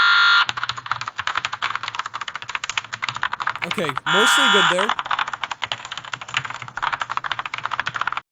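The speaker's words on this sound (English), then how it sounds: "Let's do keyboard typing." AI-generated computer keyboard typing from Magnet, fast continuous clicking clatter, broken midway by a short burst of another synthetic sound, with someone briefly speaking.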